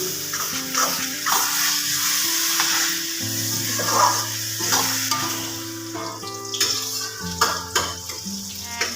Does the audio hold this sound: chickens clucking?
no